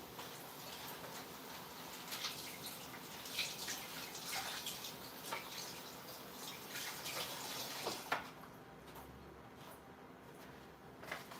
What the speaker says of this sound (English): now we're gonna wash this